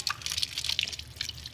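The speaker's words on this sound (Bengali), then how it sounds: "অনেক কয়বার ধুয়ে নিব টমেটোগুলো।" Fresh tomatoes are rinsed in water by hand, giving close, continuous splashing and dripping with small sloshes and no speech.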